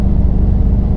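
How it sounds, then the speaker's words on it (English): A Subaru STI boxer engine idles with a deep, steady low rumble that stays loud and even throughout, with no voices. "I love the Boxer rumble"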